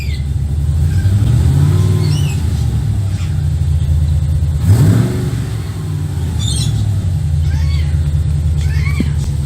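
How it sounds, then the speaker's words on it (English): Nissan Patrol converted with an LS2 V8 engine idles with a steady low rumble and rises in one brief rev midway before settling back, with faint chirps of birds or a cat over the top. "So I'm just gonna rev it a little bit so you can see moving it."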